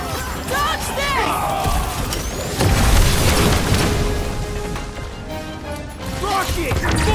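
Heavy booms and bursts fill a chaotic firefight in Marvel's Guardians of the Galaxy video game, loud and continuous, with shouting voices and creature cries mixed in over the rumble.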